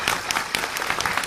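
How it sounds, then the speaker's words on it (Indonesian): Lively audience applause at a gathering, crisp overlapping claps with a few sharper bursts, sustained and fairly close. "Tepuk tangan ndak apa-apa"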